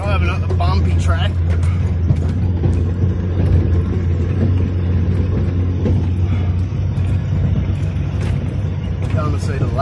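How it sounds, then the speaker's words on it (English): Car driving up a bumpy track in gold-prospecting bush country, a loud steady engine rumble with jolts and rattles throughout, a voice talking over it. "Driving up the bumpy track."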